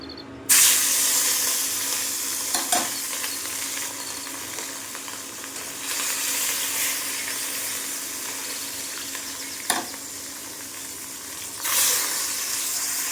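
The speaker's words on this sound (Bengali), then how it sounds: "মাছগুলো এখন ভেজে নেব।" Fish fry in hot oil in a pan in a village kitchen, a steady close sizzle running throughout, broken by a few sharper spattering pops and stirring noises, with no talk.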